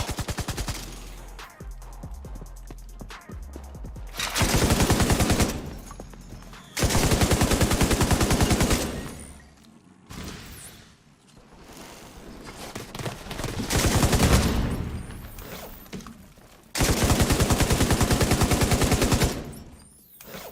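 An M60 light machine gun in The Division 2 firing several long, loud sustained bursts of rapid automatic fire, separated by short quieter gaps of handling and background game noise, with no one talking.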